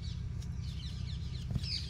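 Chickens clucking softly in a farmyard among goats, short chirpy calls scattered over a steady low hum, with no clear talking.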